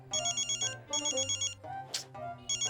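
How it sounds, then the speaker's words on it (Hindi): A phone ringtone rings close by, a repeating electronic melody in short bursts with brief gaps between them. "अरे दीवान जी, ये वाला फोन बज रहा है।"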